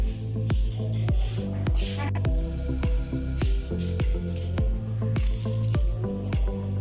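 Whole spices being washed by hand in water in a home kitchen, with repeated wet squishing and dripping sounds at an irregular rhythm, close and fairly loud, no talking.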